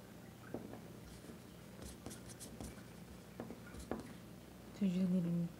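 A pencil drawing on paper, faint scratchy strokes and light taps scattered across a quiet room, ending with a brief voiced hum.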